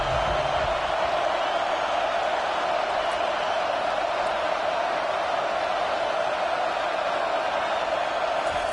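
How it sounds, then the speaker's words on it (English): A steady, loud wash of stadium crowd noise during a football game fills the whole stretch, a constant roar with no breaks or distinct voices standing out. "Listen to this crowd just shaking the girders of this place"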